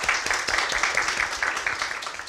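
Audience applause at a Ruby programmer meetup's live-coding event, a steady dense patter of many hands clapping throughout, moderately loud and close.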